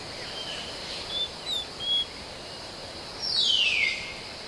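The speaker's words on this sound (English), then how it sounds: "the jungle pulses with the sounds of insects and birds" Birds and insects in an Indian jungle give scattered chirps and whistles and a rising call over a steady insect drone and hiss, moderately loud and with no voices.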